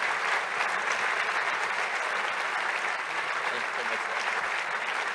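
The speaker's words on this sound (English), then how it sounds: "A big round of applause." Audience applause at a conference conversation event, a steady, full round of clapping from a large crowd lasting the whole moment.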